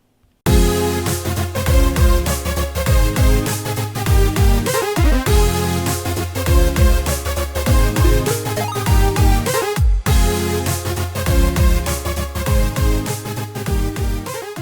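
Electronic dance drop built in Garageband on iPad or iPhone as a recreation of a track: dense, loud, continuous synth and driving beat layers with steady rhythmic pulses, a brief cut near the middle, no talking.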